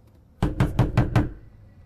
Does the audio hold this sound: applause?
no